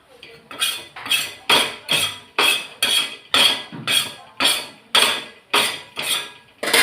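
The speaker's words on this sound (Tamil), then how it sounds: "கல் உப்பு போட்டு தேய்க்க போகிறேன்" Coarse rock salt is scrubbed back and forth across a dosa griddle in about a dozen steady, gritty strokes, each a loud rasping swish with a short pause between, close up.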